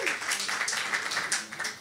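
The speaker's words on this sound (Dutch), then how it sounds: "een mega applaus voor Katja da Silva" An audience at a live band evening in Vlaardingen applauds the co-presenter, Katja da Silva, with a brief, steady burst of clapping at moderate volume.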